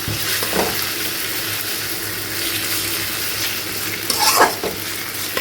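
Onion and garlic sizzle steadily as they fry in a pan, with a few louder stirring scrapes and clinks near the end; no one speaks.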